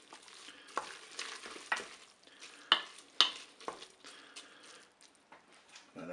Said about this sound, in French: On ouvre notre Cookéo. Je vais mélanger mes ingrédients.